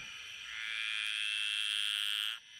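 Frogs in Australia give a continuous, shrill buzzing chorus that holds steady for about two seconds before abruptly dropping away, loud and alone.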